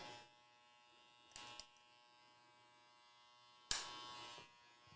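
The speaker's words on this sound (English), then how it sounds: "then I'll do a little detail kind of with the trimmer, just like that" Electric hair trimmer buzzing during a haircut, a steady faint hum broken by two louder bursts as the blades touch the hair, close up, with no talk.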